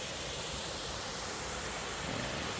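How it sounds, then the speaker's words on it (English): Waterfalls below an 1890s copper mine give a dense, constant rushing roar, broadband and unbroken, filling the whole scene without any voices. "Kind of see the waterfalls and Drew there for perspective."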